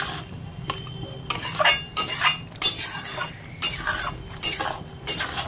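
Metal spatula scraping and clanking against a pan as chicken kosha is stir-fried, repeated rhythmic scrapes close up over a faint low sizzle, with no talking.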